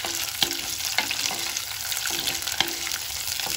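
Green chilies and sliced onions fry in a new clay pot for vegetable biryani, a steady close sizzle with a few sharp stirring clicks and scrapes spaced through it.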